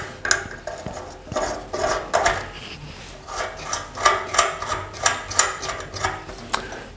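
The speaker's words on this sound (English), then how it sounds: "I can bolt it on." A steel flat bar is being bolted onto a curved truck bumper on a 1939 Hudson rat truck, giving a run of rhythmic metallic ratcheting clicks with faint clanks, close up and with no talk.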